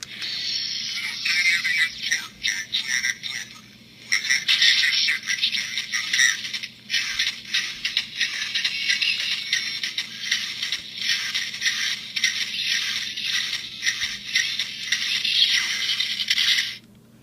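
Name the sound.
electronic toy robot sound effects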